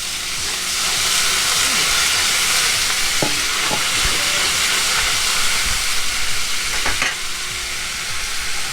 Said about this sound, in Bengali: একটুখানি জল দেবো যাতে মশলা পুড়ে না যায়